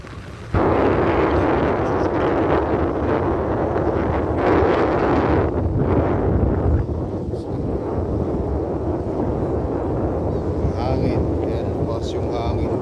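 Strong wind roars steadily over the microphone at a fishing spot in the late afternoon, a dense continuous rumble with gusts, while a voice talks faintly underneath.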